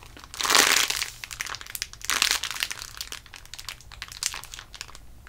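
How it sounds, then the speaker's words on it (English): A purple jumbo toast loaf squishy toy is squeezed close up, giving two strong crinkly, rustling squishes followed by lighter crackling and handling noise. "So it's dense on the first squish, but you can really get in there."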